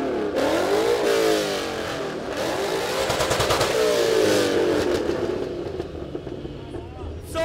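Car engine revving hard at the American Cars Mania 2024 show, loud and close, with rising and falling revs over several seconds and crowd voices underneath.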